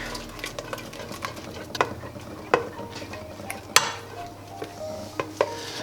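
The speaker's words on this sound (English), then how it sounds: "So there's 2 eggs in there. Give that a whisk." Two eggs are whisked in a bowl: quiet, irregular clinks and taps of a utensil against the bowl over a soft background hum, with no talking.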